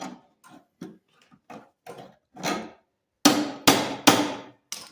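A hammer taps on metal while straightening a part on a Honda Harmony 2 engine, starting with soft scattered ticks that build into several louder, sharper strikes near the end, each one short and distinct.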